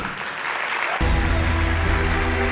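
Audience clapping at a talk, a dense wash of applause that swells louder after the first second, joined by a steady low hum or music-like drone underneath.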